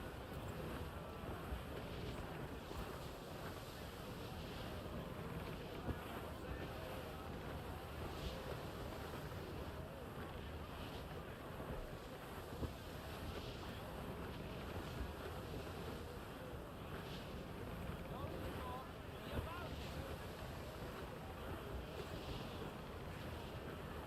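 In Assassin's Creed Black Flag, a sailing ship rides out a squall, with a continuous roar of wind and crashing waves, steady and dense, with no distinct voices.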